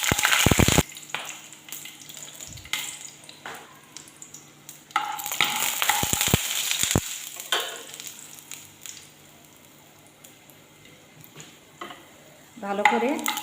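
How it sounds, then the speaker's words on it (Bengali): Bay leaf, dried chilli, garlic cloves and cinnamon frying in hot mustard oil, a steady close sizzle with sharp utensil knocks and scraping over it, quieter in the middle and louder again at the end. "গরম সর্ষে তেলের মধ্যে তেজপাতা, শুকনো লঙ্কা, রসুন কোয়া আর দারুচিনি দিয়ে দিলাম।"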